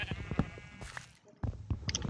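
Sheep bleat in the background of a Minecraft game, short bleats scattered among other game sounds and a brief quiet gap.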